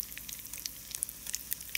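Johnny cakes of cornbread fry in hot grease with a faint, steady crackle and scattered light pops, close by and without voices.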